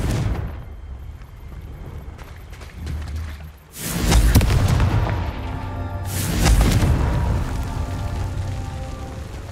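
A Confringo fire spell in Hogwarts Legacy explodes twice, each a loud booming blast followed by a long crackling, rumbling tail.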